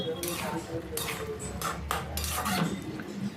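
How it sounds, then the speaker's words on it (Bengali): Fried potatoes go into a pan of crab curry and get stirred, producing a run of close metallic scrapes and clatters of a utensil against the pan in several bursts. "এবার ভেজে রাখা আলুটা আমি এর মধ্যে দিয়ে দিচ্ছি দিয়ে একটু নাড়াচাড়া করে নিতে হবে"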